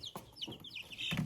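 Soft, high peeping and clucking from chicks in bedding, several short chirps in quick succession, close but quiet.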